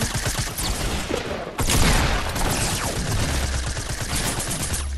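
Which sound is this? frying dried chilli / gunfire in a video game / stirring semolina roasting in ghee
gunfire in a video game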